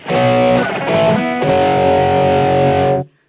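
A loud distorted electric guitar through a Boss eBand JS-10 with a limiter on plays a few sustained chords, held evenly and compressed, then cut off abruptly into silence.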